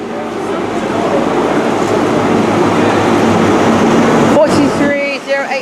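A Great Western Railway passenger train from Penzance to London Paddington via Bristol passes through Newton Abbot station, a loud, close, continuous rumble of wheels and engine that eases off near the end.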